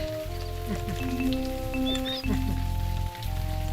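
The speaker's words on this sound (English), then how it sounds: "this is the only place in game where it's actively raining" Steady rain hisses and patters continuously in the game Return to Dark Castle, mixed with tonal game music and occasional small chirps, with no one speaking.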